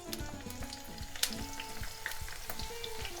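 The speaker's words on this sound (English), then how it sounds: "We're gonna fry exclusively in extra virgin olive oil." Eggplant pieces frying in a small batch in extra virgin olive oil, giving a steady close bubbling sizzle with scattered pops and crackles that runs without pause.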